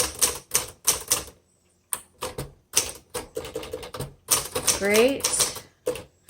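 Keystrokes from a 1959 Remington Quiet Riter manual typewriter clack in quick irregular bursts with short pauses, close and fairly loud, and a brief sliding carriage-return zip near the end; a voice speaks a single word.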